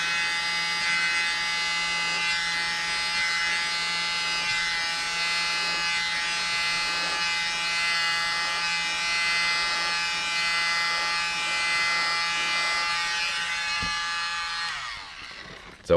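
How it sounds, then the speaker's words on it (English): A small handheld mini blower is swept up and down at angles over freshly applied hair colour, giving a steady, close electric motor whine that runs unbroken for about fifteen seconds before cutting off. "So all I'm doing is moving that up and down so I'm not blowing right down into it."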